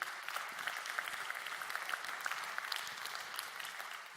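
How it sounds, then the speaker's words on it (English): Conference audience at a gastronomy tourism forum applauds steadily, a moderately faint, even patter of many hands clapping throughout with no talking over it. "And a round of applause for our viewers."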